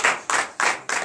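A church congregation at a morning prayer service in Benin clapping in acclamation, four sharp, evenly spaced group claps about a third of a second apart, close and crisp.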